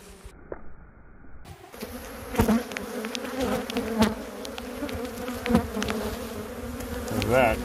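Wild Africanized killer bees buzz densely around an exposed honeycomb, a close, continuous swarm hum with individual bees zipping past, loudest in brief swells.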